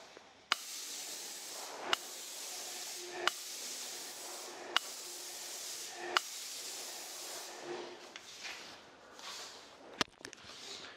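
A Graco airless sprayer fitted with a Cleanshot valve sprays trade emulsion through a 514 FFLP tip at 1800 PSI, giving steady close hissing bursts of a second or two each, separated by sharp trigger clicks, with no spitting.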